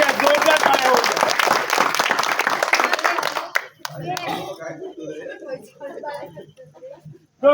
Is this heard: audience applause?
yes